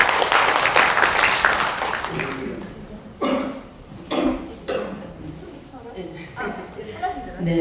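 Audience at a Korean women's policy forum in the National Assembly conference hall applauding: a burst of dense clapping for about three seconds, then fading into scattered coughs and murmuring voices.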